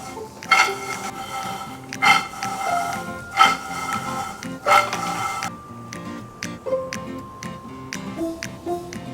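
Spicy garlic peanuts being tossed in a pan, with a series of sharp metallic clinks and rattles in an uneven rhythm, close and fairly loud, then lighter ticking taps toward the end.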